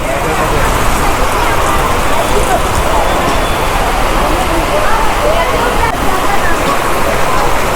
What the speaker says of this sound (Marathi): इकडे पाऊस जाम आहे ना